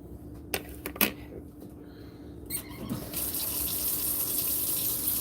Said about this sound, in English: I hope the water's not too loud.